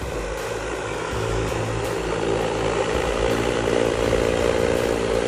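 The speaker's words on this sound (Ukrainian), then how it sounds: "Зараз ми бачимо, що дрон закінчив місію." An XAG V40 agricultural sprayer drone flies back toward its takeoff point after finishing a field mission, giving a steady, loud, close rotor buzz with a constant pitch that swells slightly partway through, with no voices.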